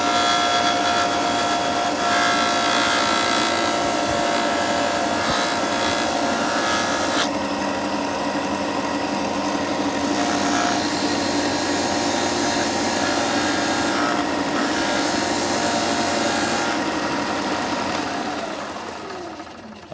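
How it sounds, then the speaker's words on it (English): A disc sander grinds down replacement scales for a Buck 110 knife, producing a loud, continuous abrasive whir with shifts in tone as the piece is pressed and eased off, then fading toward the end. "I've used the disc sander as much as I dare without going too far."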